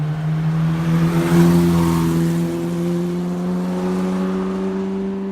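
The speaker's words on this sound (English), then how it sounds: "This is genuinely a real raced GT40 from Le Mans." A Le Mans–raced Ford GT40 race car engine holds a steady, loud idle, a deep rumbling drone that swells slightly partway through, with no one speaking over it.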